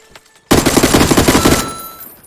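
Rapid bursts of automatic gunfire in the PUBG Battlegrounds video game break in loud and close after a brief quiet start, a dense rattling volley that fades toward the end.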